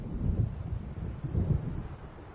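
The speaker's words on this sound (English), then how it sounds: "It seems there's a storm coming." Low, soft rumbles of thunder from an approaching storm in the video game Alan Wake, two muffled swells rolling in from a distance over faint wind, with no voices.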